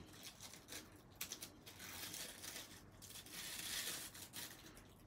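Press'n Seal plastic wrap peels up from a craft surface with faint, quiet crinkling and soft tearing, a few small crackles standing out. No one speaks.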